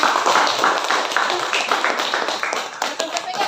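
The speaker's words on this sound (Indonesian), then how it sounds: "terima kasih untuk tepuk tangan dulu untuk temannya" Classmates applaud a presenting group in a school lesson, a dense run of close hand claps forming a continuous patter that gradually thins near the end.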